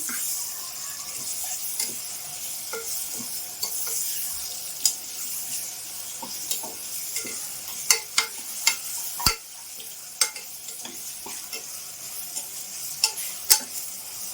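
Ginger and garlic frying in a pan for aloo kurma, a bright continuous sizzle punctuated by irregular sharp clicks and spoon taps against the pan.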